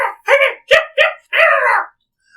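Chihuahuas yapping in a video game: five quick, harmonically rich bark-like yips in a close, tight burst, the last one drawn out longer, then silence.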